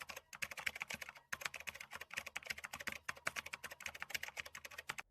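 An Aadhaar card number is entered on a computer keyboard in steady, fast key taps, a continuous close run of clicks with one brief pause, without speech.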